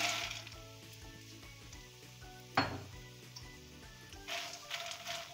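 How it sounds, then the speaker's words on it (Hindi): Fox nuts (makhana) frying in ghee in a pan over a slow flame, a soft steady sizzle with light stirring scrapes and one sharp clink of a utensil partway through, no voices. "मखानों को हम घी में फ्राई कर रहे हैं।"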